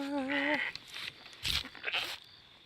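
Goats bleat in a farming video game, one clear wavering bleat up front followed by shorter, fainter goat calls and light rustling.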